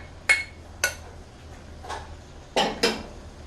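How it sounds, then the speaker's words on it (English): Smoked beef sausage pieces dropped into a pot of spicy charro beans: five sharp clinking knocks against metal in uneven pairs, close and fairly loud, with no talking. "Now I'm going to go ahead and I'm going to add the sausage."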